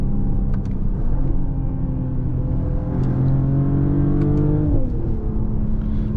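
A 2022 Mercedes GLE 53 AMG Coupé engine in comfort mode hums and gradually revs up, pitch rising smoothly before easing off, a steady close rumble with no talking.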